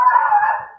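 A dog lets out a single sustained howl, loud and close, holding a steady tone for nearly a second before trailing off.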